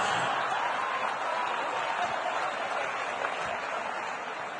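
Audience applause at a speech, a steady dense patter of many hands clapping in a large hall, fairly loud and even, fading slightly toward the end, with no talking over it.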